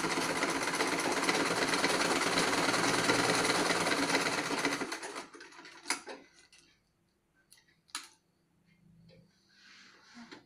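A sewing machine stitches cloth face masks in Aceh, whirring steadily and loudly for about five seconds before stopping, followed by scattered clicks and handling noises in a quiet room.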